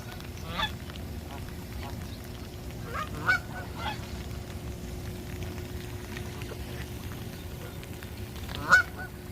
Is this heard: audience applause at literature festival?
no